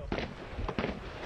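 Rifle shots in a video game, two quick sharp bursts, fairly faint and close together.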